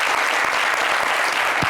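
A TV studio audience claps steadily in a continuous, even wash of applause, full and close with no pauses.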